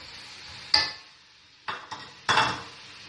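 Washed raw mutton is dropped into a metal karahi with a loud clattering thud, followed by a few lighter scraping knocks of metal on metal, close and clear with no talking.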